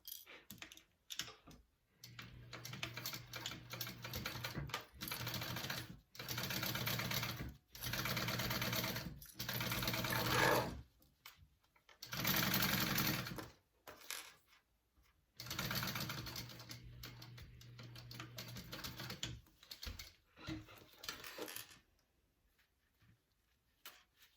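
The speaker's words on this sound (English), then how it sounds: "then sew that together at 1/4 inch seam allowance." A sewing machine stitches a 1/4 inch seam while making a crossbody bag, running in several loud bursts of rapid mechanical whirring and ticking, separated by short pauses, close and with no talk.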